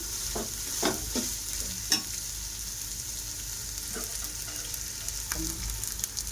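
Spices sizzle and fry in ginger garlic paste in a pan for prawn biryani, a steady hiss broken by occasional stirring scrapes and clinks, with no voices.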